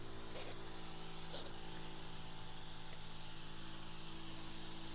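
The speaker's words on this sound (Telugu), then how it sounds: "ఈ గన్ను ద్వారా కాయ గ్యాప్ లేకుండా మనకి మందు అనేది పిచికారీ చేయడం" A spray gun applying pesticide to tall banana plants gives a steady close hiss over a constant motor hum, with two brief louder bursts near the start.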